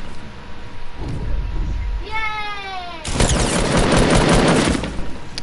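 Gunfire in the Fortnite video game: a loud burst of broadband shots fills the second half, after a rising whistle-like tone, with game noise and low rumble underneath.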